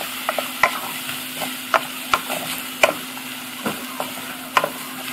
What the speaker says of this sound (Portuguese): Vou estar misturando aqui